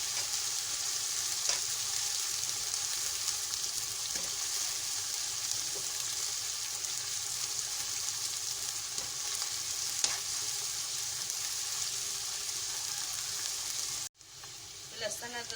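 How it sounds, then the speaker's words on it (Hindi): Onions fry in a pan with garlic-ginger paste, giving a steady close sizzle with faint stirring scrapes throughout that cut out abruptly near the end. "लहसुन अदरक के पेस्ट के साथ में प्याज को थोड़ा भूनूंगी।"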